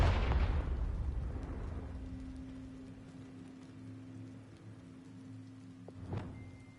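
A Confringo fire spell explodes in Hogwarts Legacy with a loud, crackling blast that fades into a rumbling decay, followed by a low steady hum and a brief sharp impact near the end.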